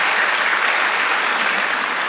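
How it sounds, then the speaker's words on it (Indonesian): A church congregation applauds steadily during a worship service, a dense, even wash of clapping that carries on without pause and without any talking over it. "Tepuk tangan buat Allah kita."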